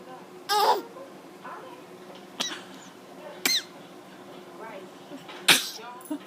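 Baby sneezing up close indoors, several sharp short sneezes spaced apart with small squeaky breaths between, while an adult voice speaks softly in the background.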